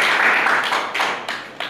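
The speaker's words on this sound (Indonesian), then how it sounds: "Jadi itu aplaus buat Muhammad Aryawan Sanadis" Brief scattered clapping from a lecture-hall audience applauding a student in a university research-methods class, a few uneven claps rather than sustained applause, fairly close.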